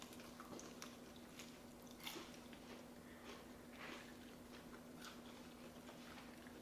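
Crunchy, homemade Korean fried chicken is bitten and chewed, giving faint, crisp crackling crunches at a distance over a steady background hum.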